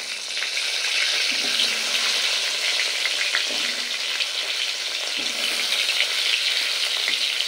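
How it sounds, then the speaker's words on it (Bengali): Pointed gourd (potol) fries with salt and a little turmeric in an open pan over medium heat, giving a steady, close, even sizzle with no voices throughout. "পটলটা একটু লাল করে ভেজে নেব"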